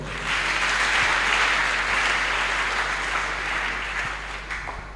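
A church audience applauds and cheers for Jesus, a dense sustained wave of clapping and crowd noise that holds strong and fades slightly toward the end.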